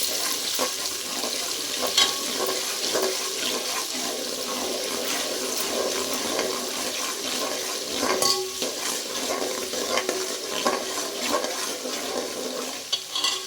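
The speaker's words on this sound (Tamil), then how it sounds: "வெங்காயம் வந்து நல்லா வதங்கணும்" Onions sauté in a pan while being stirred, a steady sizzling hiss with intermittent scraping and clatter of the spoon against the pan.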